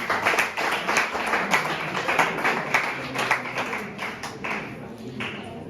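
Audience applause for a school quiz team at a basic schools science and mathematics quiz final, a steady patter of many hands clapping at close range, slightly uneven and tapering toward the end.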